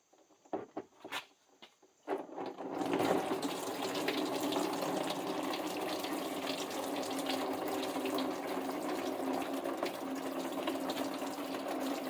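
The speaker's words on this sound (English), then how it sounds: "It's starting to drip" Coolant drips and then trickles steadily from a loosened part during an engine swap on a street stock Monte Carlo race car, a few faint clicks first, then a continuous close splashing flow.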